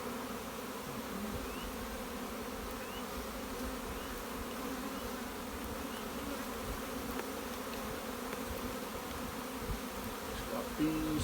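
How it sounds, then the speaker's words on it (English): Honey bees hum in a constant, even drone around open hives being split, a close, unbroken buzz that holds steady at one level throughout, with no voices. "Bees."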